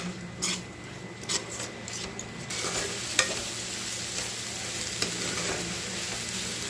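Moringa leaf and egg podimas stirred in a hot pan, a continuous frying sizzle with scattered scraping clicks from the spatula, close and moderately loud.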